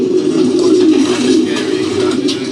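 Pigeons cooing close by, a low continuous throaty warble layered over faint background noise, loud and steady with no clear speech.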